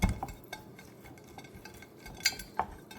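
Succotash vegetables with black pepper being stirred in a bowl, a few light clinks and scrapes of a utensil against the dish over a quiet kitchen background.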